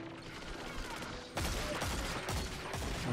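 A gunshot in the online shooter Destiny 2 lands as a sudden loud crack partway through, followed by dense clattering gunfire and game noise that carries on to the end.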